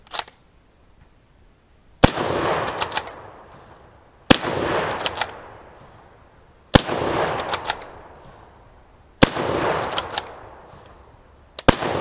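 A Turk Mauser rifle fires about five loud, sharp shots spaced a couple of seconds apart, each followed by a short echoing tail, with some rounds hanging fire.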